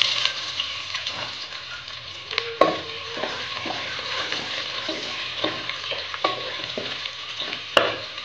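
Onions with cumin seeds and bay leaf sautéing in oil for Nepali chau chau noodles, a steady close sizzle with spatula stirring and scraping knocks scattered through it.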